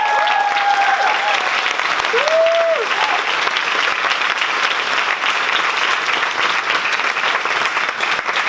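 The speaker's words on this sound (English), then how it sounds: "So please give a warm applause." Warm, dense applause from a large audience at a Stockholm film festival award ceremony, a continuous loud wash of clapping lasting over eight seconds, with a brief voice or tone near the start.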